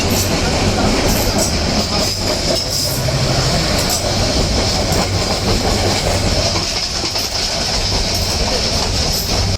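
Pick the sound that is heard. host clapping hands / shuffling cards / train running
train running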